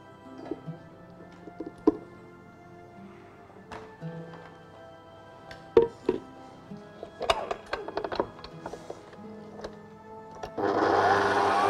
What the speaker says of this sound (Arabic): ونبتدي نضرب الكريمة